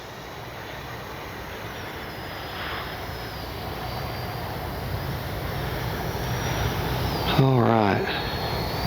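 FMS Avanti V3 70mm RC jet flying in to land, a steady far-off turbine whine building slowly, with a person briefly speaking near the end.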